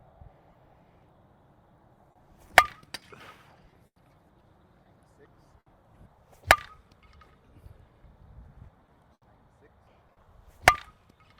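Three sharp, separated cracks of a one-piece Genesis softball bat striking balls, each a loud bright impact followed by a brief rattle, spaced several seconds apart over quiet background.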